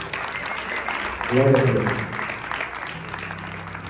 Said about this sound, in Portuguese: Você poderia dar uma salva de palmas para o Senhor?